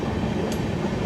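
The Chennai–Mumbai LTT SF Express, train 12164, rumbles along in a steady, loud low roar, heard from on board with continuous rolling noise and no voices.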